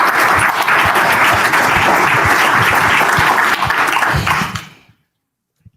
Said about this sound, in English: You guys give Khari Blasingame a round of applause.